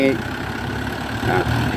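A large farm tractor runs while ploughing dry, hard paddy soil, its engine a steady low rumble at close range with little change, and a voice seems to speak over it.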